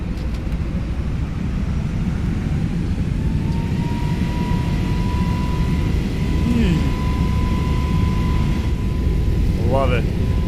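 Airbus A321neo engines spool up for a rolling takeoff, a loud steady broadband roar with a rising whine, heard from inside the aircraft with brief faint chirps over the constant drone.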